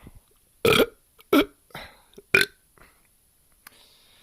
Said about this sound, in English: As I always say, if I burp, it's a sign of a good beer.